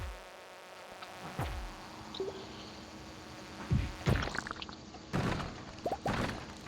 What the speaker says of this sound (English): I don't like the bugs.